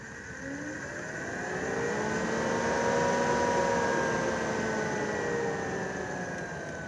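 A roof vent fan in a 2018 Benimar Mileo 323 motorhome hums steadily and fairly quietly while its pitch shifts as the speed changes, swelling slightly in the middle and then easing back.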